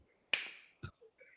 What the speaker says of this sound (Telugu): 2 చిటికలు వేసాను